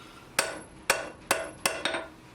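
A blacksmith hammers hot steel to forge a hammer head, truing its edges and faces: five sharp, ringing blows at a steady, unhurried pace, close and loud with no talk.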